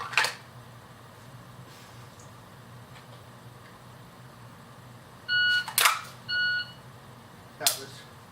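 During dry fire draw practice, a shot timer gives two short, clear electronic beeps in quick succession, with faint clicks and handling noises before and after.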